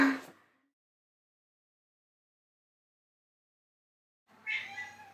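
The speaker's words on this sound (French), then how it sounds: "Et putain, mon chat miaule." A cat meows once near the start, then after a long silence a longer drawn-out meow or yowl follows, close and fairly loud.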